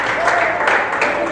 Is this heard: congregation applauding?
yes